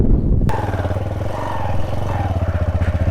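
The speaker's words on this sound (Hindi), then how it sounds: "अभी इस साइड पे ऊपर बाइक लेके जा रहा हूँ।" A motorcycle climbs a hill road toward Pathyali Top in the Jhelum Valley near the LOC, its engine cutting in loudly and close with a rhythmic, pulsing chug that keeps going without any talk.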